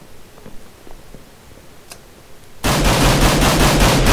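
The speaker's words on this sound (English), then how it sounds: "I hear gunshots." Rapid, loud gunfire erupts suddenly after a quiet stretch, sustained bursts of automatic shots from a Minestrike match in Minecraft continuing to the end.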